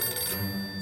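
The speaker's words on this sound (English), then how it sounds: "Phone's ringing?" A telephone rings inside a fallout bunker in the survival game 60 Seconds! Reatomized, a short bright electronic ring heard alone at steady moderate loudness.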